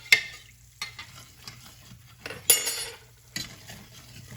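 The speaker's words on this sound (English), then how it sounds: "You just get ready to stir really quick." Tomato gravy stirred and frying in a pan: quick scraping strokes of a utensil against the pan in bursts, over a low continuous sizzle, close and fairly quiet, no talking.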